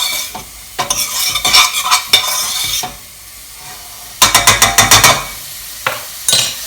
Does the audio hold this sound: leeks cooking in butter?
yes